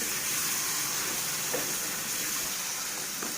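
Goat tripe frying in a pan after turmeric is added, a steady broadband sizzle with faint stirring scrapes, close and continuous with no talk.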